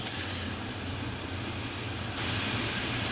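Chopped onions and diced beef fry in about two tablespoons of oil in a pot over medium heat for Armenian red rice pilaf, giving a steady, loud hissing sizzle that swells slightly near the end.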